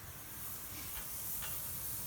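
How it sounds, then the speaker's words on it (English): A maple sap boiler built from an old used 55-gallon drum, with restaurant pans set in it, gives off a quiet, steady hiss of steam and boiling sap outdoors. "this is our boiler that we have set up. It's made out of just an old used 55-gallon drum with a couple restaurant pans in it."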